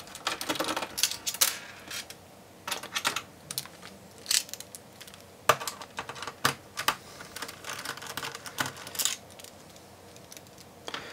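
Seven screws come out of an Acer Aspire laptop, producing a steady run of small, sharp plastic and metal clicks and ticks up close, with no talking.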